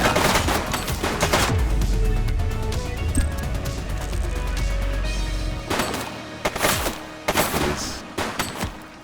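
Gunfire erupts in the police video game The Precinct, with bursts of rapid shots, heavy low booms and sharp cracks in clustered volleys, then scattered single reports toward the end, all loud and close.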